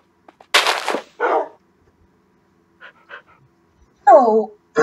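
Dogs in a video game bark and pant in short, loud, close bursts separated by near silence, with a few softer yelps in between.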